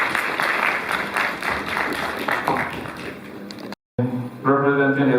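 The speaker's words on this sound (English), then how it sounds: "Shall we welcome him with a round of applause?" An audience at a college congregation ceremony applauds to welcome a speaker, with dense, sustained clapping that cuts off abruptly, then a voice begins speaking.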